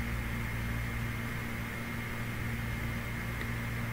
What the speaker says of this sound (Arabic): يعني حوالي 30 ثانية في الميكرويف.